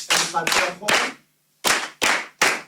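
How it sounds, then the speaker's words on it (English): Primary school children in a coding and robotics class clapping hands in unison, six sharp, loud claps in a rhythmic pattern with a brief pause after the first three. "Clap hands for her"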